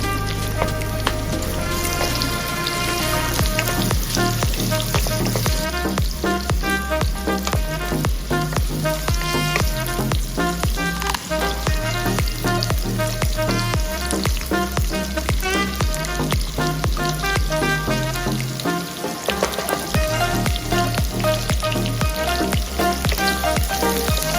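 Onion and ginger sautéing in a hot pan for Bicol Express, a steady loud sizzle and crackle running throughout with faint stirring, no talking.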